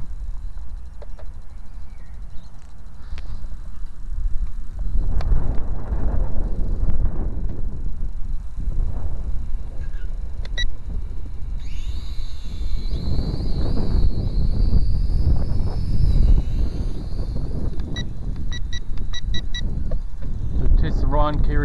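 Steady, loud wind buffeting the microphone outdoors while a LiDi RC L15HF FPV quadcopter flies, a constant low roar with a thin high motor whine rising partway through, and no talking.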